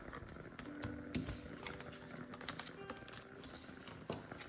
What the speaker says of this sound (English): Let's throw in these cards in here. I'm going to shuffle.